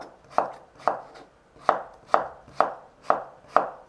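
A knife slices through a cucumber on a cutting board in seven crisp, evenly spaced chops, close and distinct with quiet gaps between.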